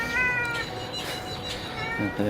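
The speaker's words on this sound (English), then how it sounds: "The cat wants some of the food" A cat meows outdoors near cooking food, giving a couple of drawn-out, plaintive calls close by over steady background noise.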